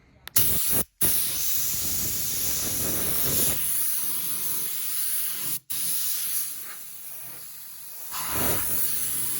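A handheld electric sander smooths drywall compound spread over plywood planking on a pinball machine, giving a steady close hiss and whir. The motor runs almost continuously, with a couple of brief cut-outs and a swell in intensity near the end.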